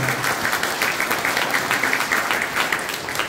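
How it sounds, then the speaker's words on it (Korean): An audience at a community welfare council awards ceremony gives the honorees sustained applause, with many hands clapping briskly and evenly in a close, full wash. "다시 한번 축하 박수 크게 부탁드립니다"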